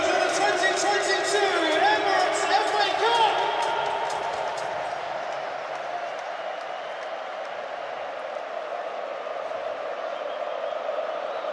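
Football crowd at the 2022 FA Cup final between Chelsea and Liverpool, a loud, sustained roar of cheering and applause that swells early and then settles into a steady, distant wash of noise.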